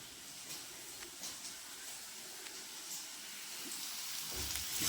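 Tadka tempering for dal sizzling in a pan, a steady bright hiss with faint crackles that swells slightly toward the end, heard alone without talk.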